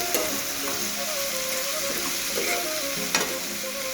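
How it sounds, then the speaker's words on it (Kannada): Chopped onions with salt fry steadily in hot oil for onion bhaji, a continuous close sizzle broken by a few sharper scrapes and stirring clinks. "ಉಳ್ಳಾಗಡ್ಡಿ ವಾಶ್ ಹೋಗೋ ಮಟ್ಟ ಫ್ರೈ ಮಾಡಬೇಕು"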